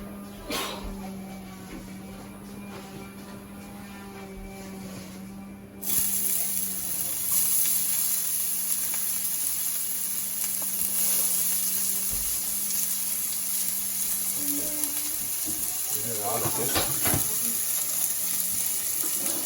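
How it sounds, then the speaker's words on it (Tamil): Onions sizzle steadily in hot oil in a pan as a constant crackling hiss, with a faint running tap and some clinks near the end. No one speaks. "எண்ணெய் கொதிச்சோடனே வெங்காயத்தை போடுவோம்."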